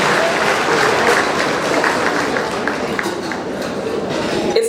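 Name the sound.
audience applause at gala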